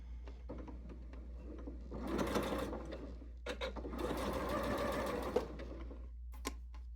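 A sewing machine stitching a fabric zipper pouch, with two bursts of steady close whirring needle runs separated by a brief pause, plus light clicks and handling noises around them.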